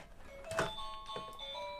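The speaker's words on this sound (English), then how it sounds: "there's the doorbell again." Faint doorbell chimes ringing a few tonal notes indoors, soft and slightly distant with a low background hum, no talk.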